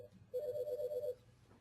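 A mobile phone ringtone goes off in an office setting. It plays a short, bright melodic trill that repeats quickly for under a second, clear and fairly prominent over quiet room tone, with no talking.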